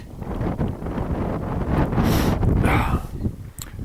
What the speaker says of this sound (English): It is cold in the wind